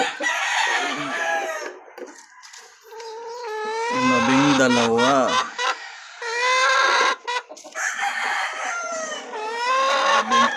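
Hens clucking and cackling near a hen about to lay eggs during an egg harvest, with a rooster-like crow rising midway; loud, busy calls continue throughout, with no talk over them.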